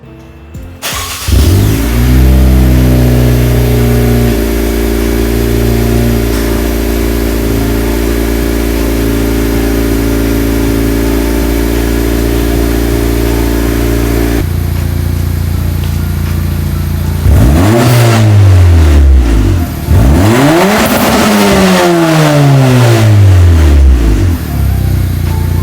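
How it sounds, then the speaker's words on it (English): An 11th gen Honda Civic with a new exhaust cold-starts with a crank and catch, then idles loud and close before two sharp revs climb to redline and drop back. "cut to the sound of the exhaust right now on a cold start and me revving it all the way up to redline"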